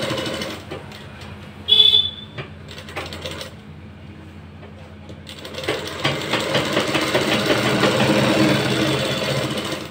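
A sewing machine stitching salwar fabric runs in bursts, starting and stopping at close range, then settles into a steadier, louder whirring run toward the end.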